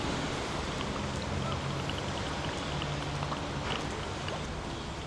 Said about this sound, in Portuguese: Olha aí quem veio, a chuva.